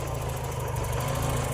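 A 1988 Peugeot 205 GTI, revived after fourteen years abandoned, idles steadily just after starting, a close, even low rumble holding constant with no voices over it.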